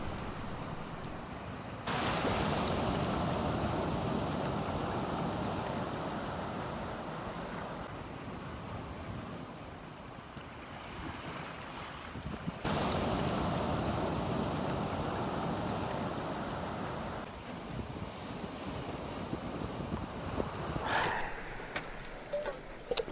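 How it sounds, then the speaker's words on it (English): Waves wash in and drag back over a stony foreshore at night in slow surges, a steady rushing roar swelling and fading with no voices. "enjoy the sound of the waves breaking upon this stony foreshore in the dense darkness"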